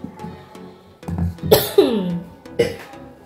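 Several harsh coughs close to the microphone, caused by strong sambal cooking fumes, a short burst at first and then a few more coughs spaced out, with no talking.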